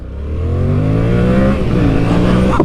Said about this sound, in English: every time I rip the throttle on this thing